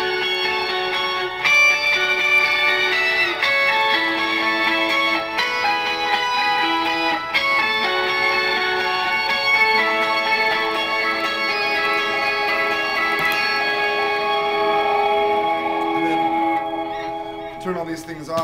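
An electric guitar runs through a whammy pedal, a compression pedal and a delay unit, sustained pitched notes shifting in steps and trailing echoes, playing continuously and fairly loud.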